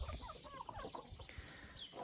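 Hens and roosters cluck and call steadily in a backyard flock kept for eggs, including Marans, several birds overlapping at close range with no talking.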